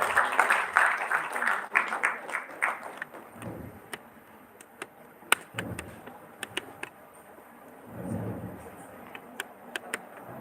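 Applause for a presenter at a dental certificate ceremony, a burst of clapping from a small crowd that fades within a few seconds, then scattered sharp claps and knocks with a brief second swell of noise.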